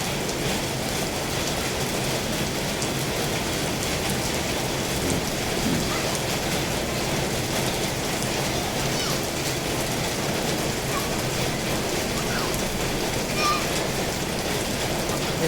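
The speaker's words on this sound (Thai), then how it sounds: "บรรยากาศยามนี้ฝนตก" Steady rain pours over a rural village in southern Laos, a dense, even hiss of drops on surfaces that holds for the whole stretch with no voices above it.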